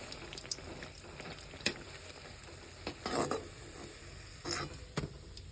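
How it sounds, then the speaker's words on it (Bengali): Malpua batter sizzling in hot oil, a steady low crackle with occasional brighter pops and stirring clinks, fairly quiet and close. "আমি এই যে মালপোয়া বানাচ্ছি"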